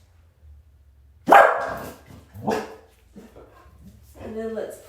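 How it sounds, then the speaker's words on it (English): Dogs barking outdoors during a gentle bedtime yoga stretching session, one loud sharp bark followed by a few more scattered barks and a whimper, heard from a distance with soft indoor ambience around them. "Pardon the barking dogs"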